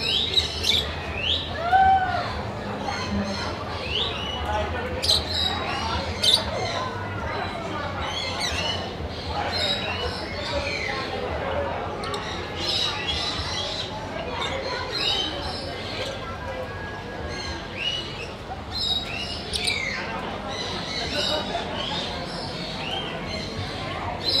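Many colourful lovebirds at an Australian agricultural show chirp and squawk in a busy, overlapping chorus, with crowd murmur and a person talking in the background.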